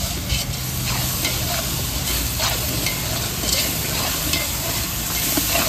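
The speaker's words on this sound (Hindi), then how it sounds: "इसके बाद हम इसमें ऐड करेंगे अदरक लहसुन का पेस्ट।" Ginger garlic paste sizzles and crackles in a hot pan while being stirred for a fish biryani, a steady loud frying hiss with scraping stir sounds, close up and without speech.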